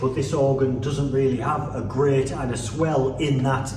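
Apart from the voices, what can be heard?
None of the usual background noises is heard.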